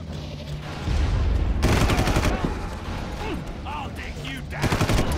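Gunfire in the shooter game Far Cry 1 rattles in loud, rapid bursts of automatic fire with scattered single shots and impacts, while voices cut in between the volleys.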